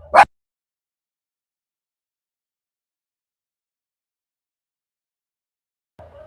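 A dog gives a single sharp, loud bark at the very start, then near silence follows until a faint, brief rustle at the end.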